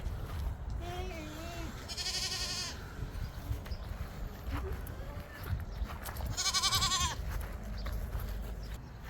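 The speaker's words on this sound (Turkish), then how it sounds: "Hamile olduğuna inandığım bir tane siyah keçi." Dwarf goats in a grassy pen in Antalya bleat twice in loud, wavering cries, close by, with people talking in Turkish between them.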